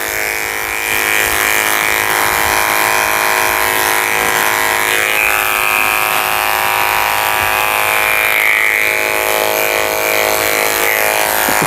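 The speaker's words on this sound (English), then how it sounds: "Get the tail out of my way and shave underneath." Electric clippers shave a toy poodle's fur during a summer grooming cut, a loud steady buzzing hum running continuously and close up with no talking.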